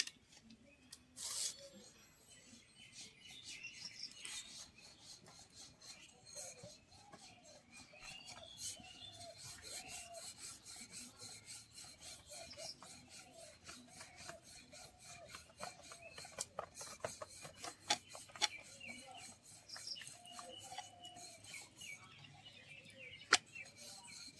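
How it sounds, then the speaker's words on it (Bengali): Roti dough is patted and rolled with dry flour in a village kitchen, giving soft, continuous rubbing and scraping with rhythmic light taps throughout, faint and close, with no talk. "একটু শুকনো আটা নিয়ে পিট পিট করে নেব।"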